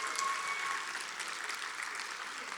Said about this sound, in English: One more big round of applause for this guy.